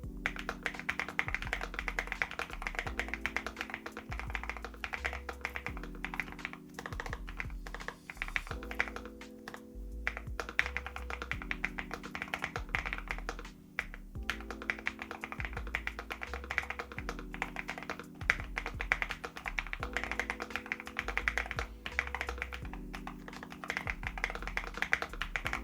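Rapid, continuous typing on a NuPhy Node 75 low-profile wireless mechanical keyboard, with crisp, close key clacks and occasional heavier thocks from larger keys, steady with no talking.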